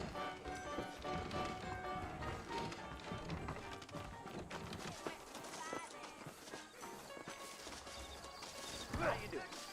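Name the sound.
horses trotting in the video game Red Dead Redemption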